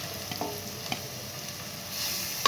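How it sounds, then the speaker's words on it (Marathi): Finely chopped garlic and ginger sizzle in hot oil over a high flame for Schezwan noodles, a steady hiss with a few soft stirring taps and a sharper clink at the end. "आता आपण हे बारीक चिरलेले लसूण आणि अद्रक टाकून घेऊ"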